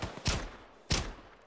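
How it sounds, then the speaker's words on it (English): Video game squad gunfire in a military operation on Malden: two sharp, loud bursts about half a second apart, close and alone. "Neg, open fire."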